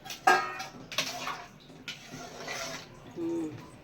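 Water splashes and pours into a pan in a few bursts, with metallic clinks of cookware between them and a brief voice near the end.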